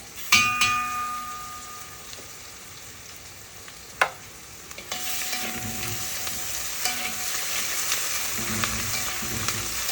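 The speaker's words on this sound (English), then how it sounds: "it's gonna spark a little bit when you put the ginger paste in there or garlic paste" Ginger and garlic paste dropped into hot oil sizzles loudly. The frying steadies into a continuous hiss, with a few sharp clinks and stirring scrapes near the start.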